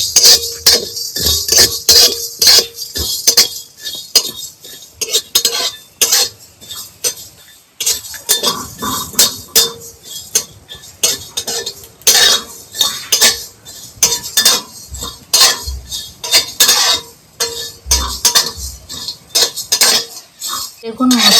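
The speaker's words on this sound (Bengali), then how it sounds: "এইগুলো একসঙ্গে আমি শুকনো কড়াতে ভেজে নেব।" Whole coriander seeds, cumin and whole garam masala dry-roasting in a kadai, a metal spatula scraping and clinking against the pan in close, loud, irregular bursts that continue throughout.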